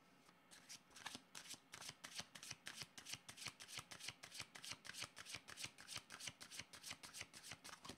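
A deck of tarot cards shuffled repeatedly at close range, producing a steady, rhythmic run of crisp riffling bursts with no talking.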